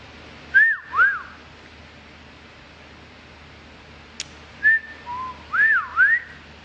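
Someone whistles short rising and falling notes in two bursts, first a pair and then a cluster of four, clear and close against a quiet room, with a faint tick between.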